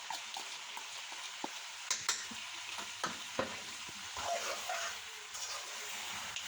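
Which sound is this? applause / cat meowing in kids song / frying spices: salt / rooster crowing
frying spices: salt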